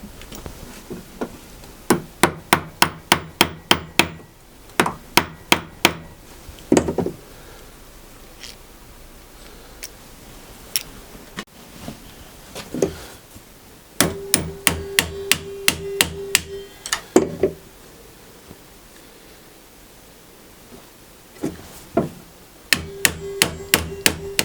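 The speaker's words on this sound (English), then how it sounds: "hammer the new one into place" Hammer blows drive a new part into a woodworking morticer in a workshop, coming in quick bursts of sharp, ringing metallic strikes separated by pauses.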